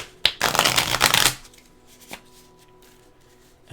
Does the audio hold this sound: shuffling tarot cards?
yes